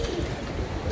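Pigeons coo nearby in a continuous, soft, throaty murmur that fills the short moment, with no voices.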